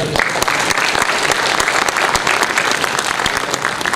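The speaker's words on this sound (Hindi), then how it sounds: "इसी तालियों की गूंज के साथ यहाँ प्रशांत जी नाइक साहब का इस्तेकबाल हुआ है" Sustained audience applause at a mushaira poetry gathering in Alibag, Raigad, Maharashtra, a dense steady clapping from a large crowd that holds at full strength without a break.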